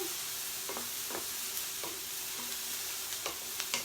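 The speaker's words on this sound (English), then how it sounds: "you don't want to burn your onion, you just want to cook them until they're a little bit translucent" Onions fry with a steady hiss in a pan while a utensil scrapes and stirs in occasional distinct strokes, close by with no talking.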